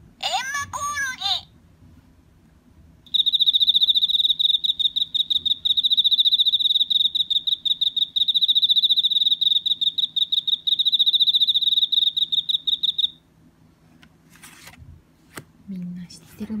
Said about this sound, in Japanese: エンマコオロギ